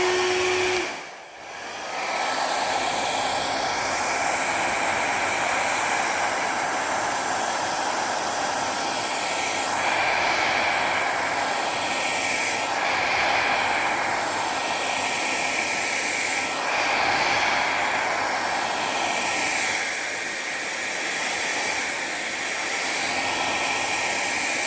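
A hair dryer blows poured fluid art paint outward to form cherry blossom tree shapes, giving a steady, loud airy whoosh that runs almost the whole time after a brief start, with small shifts in pitch as it moves.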